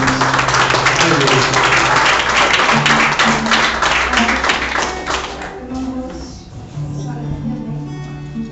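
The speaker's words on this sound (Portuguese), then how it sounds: "Uma salva de palmas para Jesus." A church congregation claps loudly and steadily, then the clapping fades as a sustained tone and voices carry on beneath it.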